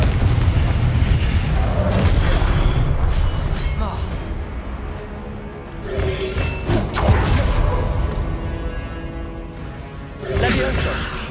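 Repeated booming blasts from the Confringo spell in Hogwarts Legacy, a few heavy thuds rising above a steady bed of game noise and music.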